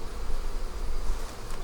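Honey bees buzzing around an open hive during a colony inspection, a dense continuous drone that swells and dips slightly, close and steady.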